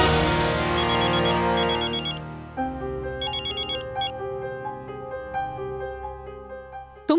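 A melodic electronic ringtone plays its tune, bright chiming notes repeating in phrases, loud and alone, ending abruptly.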